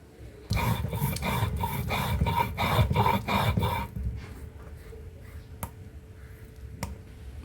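Whole spices, ginger and cinnamon with cardamom, are ground by hand on a sil-pata grinding stone, giving a loud run of rhythmic rasping strokes for a few seconds, then quieter scattered scrapes and taps.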